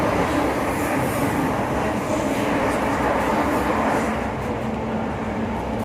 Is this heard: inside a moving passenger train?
yes